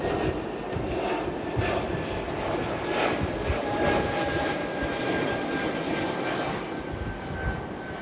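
A Boeing 777-300 airliner taxiing at Heathrow Airport gives a steady, broad jet-engine roar with a faint high whine, holding constant and fairly near throughout, with no voices.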